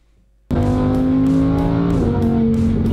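A powerful car engine roars to life after a moment of silence and accelerates hard, loud and close, with steady rising harmonics and periodic gear-like pulses; the car is driven on ordinary Czech roads.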